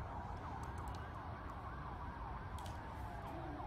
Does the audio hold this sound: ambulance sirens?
yes